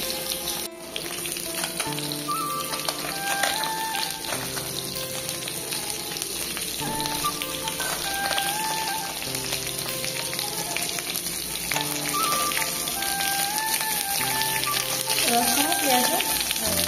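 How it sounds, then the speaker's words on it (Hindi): Fish sizzles steadily in hot oil in a home kitchen pan, a close, continuous crackling hiss under a voice speaking over it. "দেখন্তু মাছ এমতে সুন্দর ভজা হয়েছি"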